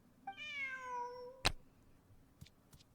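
A single drawn-out cat meow in a video game, rising and falling over about a second, followed by a sharp click and a few faint ticks against a quiet background.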